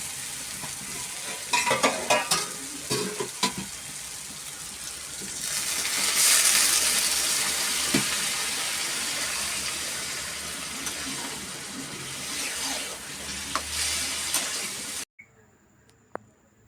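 A pan of potato curry cooked with mutton fat and green chillies sizzles and bubbles steadily at close range after water goes in, with a louder hissing swell midway and stirring clatter, before cutting off near the end.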